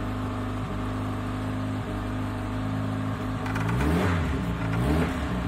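An old PAZ bus engine runs at a steady, throbbing idle, then revs up and falls back. It is loud and close, with no talking over it.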